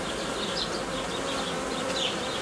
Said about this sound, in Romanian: Vreau ca albinele să înceapă să zboare și pe partea asta